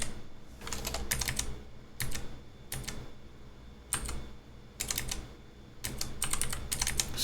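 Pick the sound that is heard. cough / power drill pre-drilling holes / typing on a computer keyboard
typing on a computer keyboard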